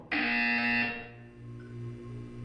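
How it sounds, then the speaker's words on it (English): A loud electronic buzzer from the video game Portal 2 sounds once for close to a second, a harsh steady tone that cuts off into a lingering, quieter room hum. "When you hear the buzzer, look down at the floor."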